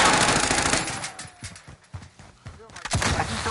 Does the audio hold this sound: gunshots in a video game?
yes